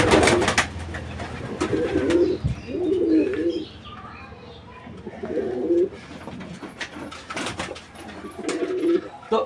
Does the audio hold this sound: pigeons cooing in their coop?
yes